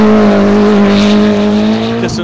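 Mitsubishi Evo rally car on a sand stage, its engine droning loud and steady as it slides under a newly installed hydraulic handbrake, the tone shifting abruptly near the end.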